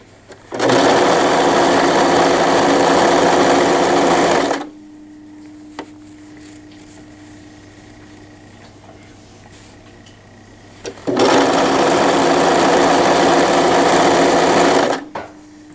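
A sewing machine stitches a pair of knit longies, running loud and steady in two long bursts at the start and end with a quiet pause between them.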